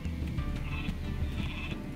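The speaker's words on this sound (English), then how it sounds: "I have one sheep." Sheep in the Northgard strategy game bleat faintly in short wavering calls over a steady low game background.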